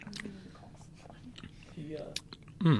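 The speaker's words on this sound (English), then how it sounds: "love to listen to the sounds of me chewing" A person chews food right up against the microphone, with wet, crunchy bites and mouth noises over a soft background, and a brief low vocal sound near the end.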